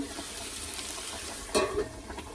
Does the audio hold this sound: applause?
no